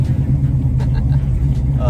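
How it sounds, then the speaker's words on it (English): An old tow truck drives with a steady, heavy, close low engine rumble throughout, with a few faint rattles on top and a voice speaking in the cab. "we're in the old tow truck"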